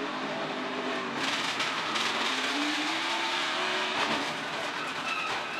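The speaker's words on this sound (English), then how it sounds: "Yeah, that flapping's a tire down" A NASCAR Xfinity Series stock car running on a flat tire at Iowa, a loud steady engine roar with a rhythmic flapping rubber slap in the background, no talking.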